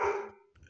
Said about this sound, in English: It's his time to get up and talk to the neighbors and bark at everyone.